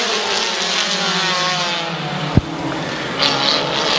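Stock cars roaring off at the green flag of a heat race at Midvale Speedway, a loud dense pack of revving engines with a sharp thump midway and rising whine as they accelerate.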